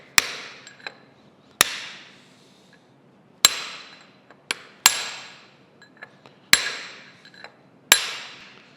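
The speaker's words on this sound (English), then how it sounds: "I've got a little dead blow hammer here." A small dead blow hammer drives a brass punch to separate tight bronze connecting rod bearings from a steam stoker engine, giving six sharp, ringing metallic strikes at irregular intervals with a few lighter taps between them.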